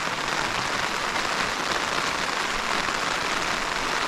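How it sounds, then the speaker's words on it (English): Rain patters on a tent during wild camping at the border of Sarek in Sweden, a steady even hiss of many drops heard from inside, moderately quiet and continuous with no talking. "Now it's raining."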